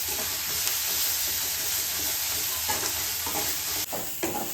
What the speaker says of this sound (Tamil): இது இஞ்சி பூண்டு பேஸ்ட் நல்லா வதங்கிட்டோம் பச்சை வாசனை போகிற வரைக்கும் வதங்கணும்